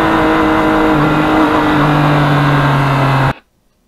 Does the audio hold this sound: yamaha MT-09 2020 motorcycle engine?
yes